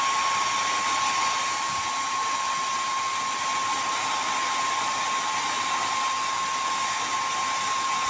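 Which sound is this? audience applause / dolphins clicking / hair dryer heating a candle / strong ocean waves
hair dryer heating a candle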